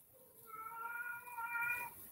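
A cat in a room gives one long drawn-out meow, fairly faint in the background, with a quiet room tone around it.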